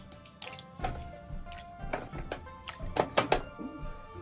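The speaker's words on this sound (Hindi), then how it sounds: "अब हम प्रेशर कुकर में पानी डालते हैं" Water is poured into a pressure cooker holding lamb pieces, giving soft splashy drips and squishy taps in uneven bursts that grow busier near the end, faint and close.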